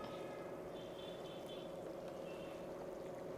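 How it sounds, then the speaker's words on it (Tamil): Ghee goes into a simmering Chettinad chicken kurma, a steady low bubbling and pouring wash that holds evenly close throughout with no pauses. "கொஞ்சம் டேஸ்ட்டுக்காண்டி நம்ம கொஞ்சம் கீ கொஞ்சமாக சேர்த்தா போவோம்"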